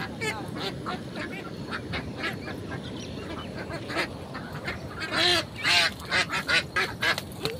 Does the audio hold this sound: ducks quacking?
yes